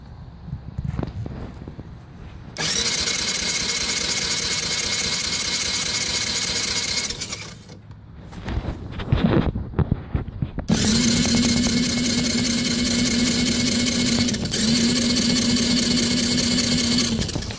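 A 1985 Yamaha Moto 4 80cc ATV engine, suspected of a carburetor problem, idles with a steady buzzing drone that cuts out briefly, sputters and revs unevenly, then settles back into a loud, even idle.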